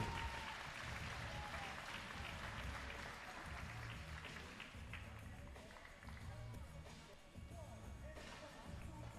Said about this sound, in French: Applaudissements pour Timéo, Victor et Manolo